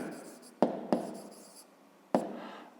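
A pen writes on paper while working through a fifth-grade maths exercise, giving a few sharp strokes and taps over a soft, close scratching background.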